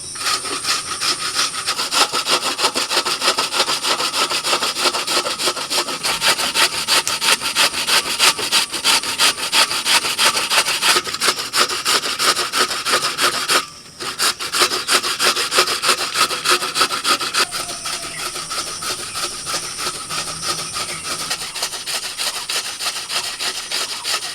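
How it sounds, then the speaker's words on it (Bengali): Beetroot is rubbed by hand against the coarse side of a grater, a loud, close, rapid rasping scrape repeated in a fast steady rhythm for over twenty seconds, with one brief pause midway and no speech. "একদম যে ঘনটা আছে সেই ঘন দিকটা করে আমি বিটটাকে একটু ঘষে নেব"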